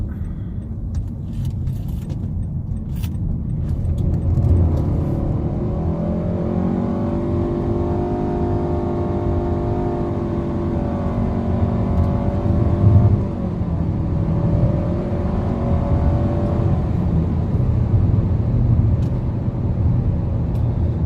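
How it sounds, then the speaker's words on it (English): Nissan Altima 2.5 SV with a CVT pulling at full throttle in sport mode, a droning engine note rising and holding high under steady road rumble, dipping briefly partway through, heard from inside the cabin without speech. "here's full throttle in sport."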